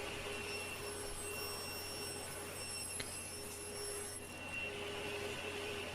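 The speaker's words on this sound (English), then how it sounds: "So got the router bit out and started making this cock beading." A router cuts cock beading in wood with a steady, moderate whine and airy roar that holds evenly throughout, with a faint tick partway through.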